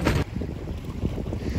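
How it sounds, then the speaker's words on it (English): Strong wind buffets the microphone beside a park lake, a loud low rumbling roar in uneven gusts with a sharp burst at the start, steady and close with no voices. "it is really, really windy"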